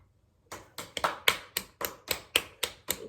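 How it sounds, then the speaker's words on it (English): A single person claps hands about ten times at a steady, even pace, each sharp clap close and distinct against a quiet background. "How many times am I going to be required to clap?"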